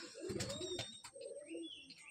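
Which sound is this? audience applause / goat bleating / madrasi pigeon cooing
madrasi pigeon cooing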